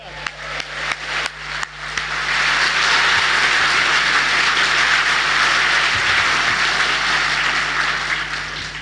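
An audience at a Brexit Party political rally breaks into sustained, loud applause after a few scattered early claps, the dense clapping filling the hall and continuing steadily to the end.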